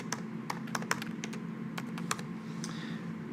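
Quick, light typing on a computer keyboard, an uneven run of close, crisp clicks with no voices.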